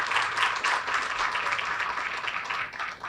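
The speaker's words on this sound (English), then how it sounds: "Another round of applause for Danny Rezko." Applause from an audience at a downtown Aurora development event, steady clapping throughout at moderate distance with no clear voices over it.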